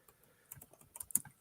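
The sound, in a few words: typing on a computer keyboard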